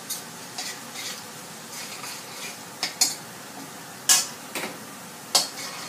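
Chopped garlic frying in a pan with a soft continuous sizzle, broken by several sharp clacks and scrapes of a spatula against the pan at irregular intervals, with no voices.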